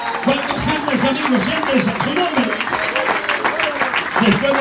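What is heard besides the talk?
congregation applauding in church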